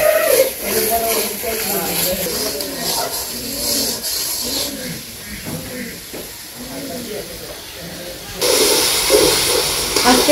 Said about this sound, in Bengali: শুকনো মরিচের পাখি অল্প একটু জল দিয়ে দিই মশলাটা একটু ভালো করে কষিয়ে নিই